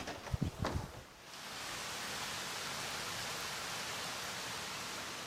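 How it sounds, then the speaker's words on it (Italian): Heavy rain pours outside a window as a steady, dense hiss, loud and unbroken after a few brief knocks and clatters at the start. "wow, quanto piove."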